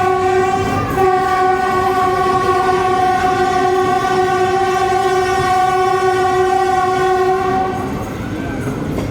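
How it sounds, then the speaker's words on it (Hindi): A GU40 locomotive hauling the refurbished Pak Business Express sounds its horn in one long, loud, steady multi-tone blast lasting about eight seconds over rumbling train noise, then fades. "तो जनाब सुना आपने GU40 का हॉर्न"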